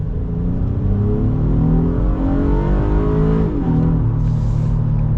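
A Honda Passport TrailSport SUV with a 9-speed transmission accelerates hard at full throttle, its engine droning loudly and rising steadily in pitch, then dropping briefly at a gear shift before climbing again, heard continuously from inside the cabin.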